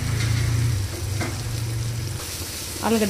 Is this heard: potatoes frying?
yes